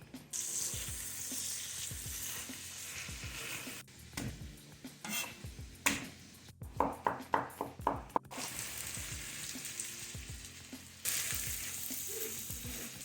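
Summer squash with salt and pepper fries in a pan over a steady sizzle, broken by brief gaps and a run of rapid clattering stirs and scrapes against the pan midway.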